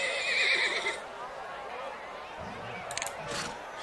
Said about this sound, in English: They just sound like a generic horse.